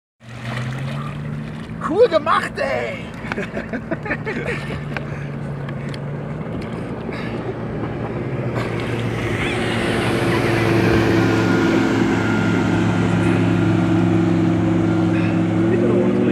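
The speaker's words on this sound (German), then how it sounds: "jetzt wäre der richtige Zeitpunkt, um den Motor anzulassen und wegzufahren" Motorboat engine idling and then revving up steadily on open water after a water-skiing fall, a continuous low drone that grows louder and more present, with people talking casually over it near the start.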